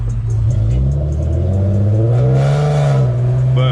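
A modified Infiniti G37 engine revs loudly and steadily close up, its low drone swelling into a higher-pitched rev in the middle before settling back down.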